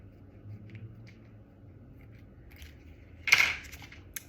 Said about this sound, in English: I'm going to cut it with some scissors.